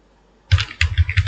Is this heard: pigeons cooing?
no